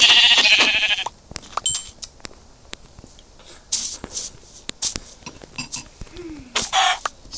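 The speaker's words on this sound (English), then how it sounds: "I'm going to kill this sheep." Sheep bleating in the Minecraft video game, a few short synthetic bleats scattered among clicks and other game sounds, no talk over it.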